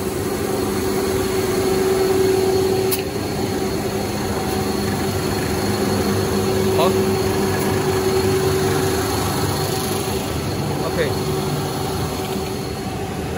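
A high-speed FS-SHARK-N650 fold gluer inspection machine, rated at 300 m/min, runs with a steady, even mechanical hum and faint tonal whine while someone talks over it.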